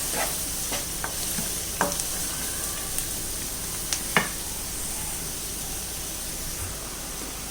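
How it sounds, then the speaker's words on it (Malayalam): Kashmiri chilli powder sautés in a pan for tomato rice with an even, hissing sizzle, broken by scattered clicks and scrapes of a spoon against the metal. "നല്ലതുപോലെ മുളകൊന്ന് നമുക്ക് വഴറ്റിയെടുക്കാം."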